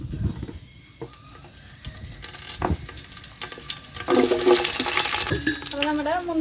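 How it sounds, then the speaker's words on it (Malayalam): Raisins fry in hot ghee for a village-style chicken dum biryani, giving a hissing, bubbling sizzle that grows louder partway through, with stirring clatter and brief voices. "അപ്പോൾ നമ്മുടെ നെയ്യ് ചൂടായിട്ടുണ്ട്. അപ്പോൾ അതിലേക്ക് ഞാൻ ആദ്യം മുന്തിരി വറുത്തെടുക്കണം."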